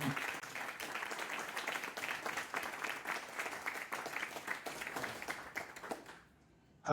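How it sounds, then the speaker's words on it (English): An audience at a book launch party welcomes David with a sustained round of applause, many hands clapping steadily at moderate volume before it tapers off, followed by a brief sound just at the end. "Let's give him a applause."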